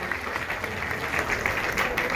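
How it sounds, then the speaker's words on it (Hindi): Audience applause at an outdoor Ram Leela event in Ghaziabad, a steady crowd clapping texture at moderate distance, fairly soft and unbroken throughout. "सब जोरदार तालियां।"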